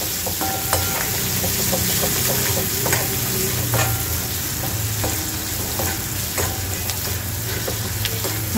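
Egg bhurji masala with coriander being sautéed in a pan, a steady close sizzle with repeated scraping stirs of a spatula throughout, no voices.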